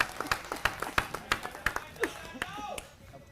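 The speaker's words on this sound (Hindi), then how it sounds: "जोरदार तालियों से स्वागत करेंगे परम आदरणीय श्रीमान अरविंद केजरीवाल जी का" A crowd claps to welcome Arvind Kejriwal at a meeting with auto-rickshaw drivers in Delhi, a run of sharp, fairly close claps spreading into scattered applause, with a voice mixed in.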